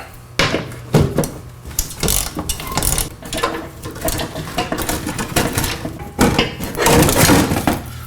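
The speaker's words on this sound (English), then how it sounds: "But we're going to turn the ratchet the right way." Ratchet clicking in quick bursts while removing a bumper support bracket on a 5th-gen 4Runner, loud and close, with irregular pauses and metallic clanks between the runs of turning.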